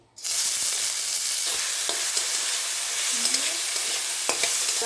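Mung dal, for a dal with bitter gourd, hits a hot pan for light frying. A loud sizzle bursts in abruptly and holds steady and close, with faint stirring scrapes.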